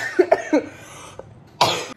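A woman coughs close by, a few quick harsh coughs and throat-clearing sounds, a short pause, then one louder, rougher cough.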